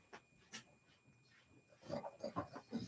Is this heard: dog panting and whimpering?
yes